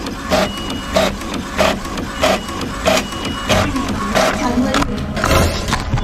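Inkjet printer printing a photo, its print head shuttling back and forth in a regular rhythm of whirring passes about every half second, loud and close, with a brief voice near the end.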